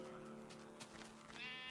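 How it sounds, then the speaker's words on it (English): A sheep in a Minecraft-style video game bleats, a short, faint wavering call, with a brief tonal game sound rising at the end. "Okay, hey, more sheep, good."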